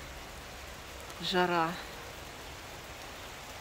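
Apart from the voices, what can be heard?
rain pouring during a desert thunderstorm in Gobustan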